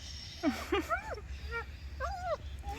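Several high, wavering puppy whimpers and whines, close by, coming in short bursts with brief pauses and faint background noise.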